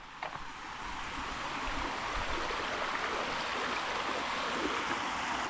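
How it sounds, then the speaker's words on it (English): A mountain stream in Kosovo rushes and splashes steadily, a dense wash of water noise at moderate level with no voices. "Check it out, I found more streams."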